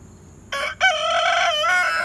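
Rooster crowing close by, a single loud call that breaks briefly then carries on in a long wavering cry over a quiet farmyard background.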